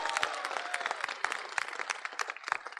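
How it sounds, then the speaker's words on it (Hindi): An audience claps and cheers at a lively student event welcoming AIIMS Bilaspur, loud dense applause running steadily throughout with sharp clap transients and crowd noise. "आइए मिस्टर AIIMS बिलासपुर के लिए जोरदार तालियां भाई।"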